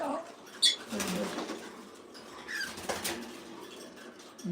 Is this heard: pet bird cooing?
yes